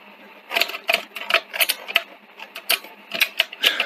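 A Sony SL-F30 Betamax VCR eject mechanism with a suspected idler fault, running with no tape loaded, makes a close series of irregular clicking, rattling bursts as it struggles.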